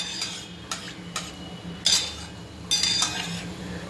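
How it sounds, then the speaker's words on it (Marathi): Gulab jamun frying in ghee with a spoon stirring the pan, giving several sharp metallic clinks and scrapes over a low bubbling sizzle, close and fairly loud, with no talking. "अशा पद्धतीने छान आपल्याला गुलाबजाम तळून घ्यायचे आहे"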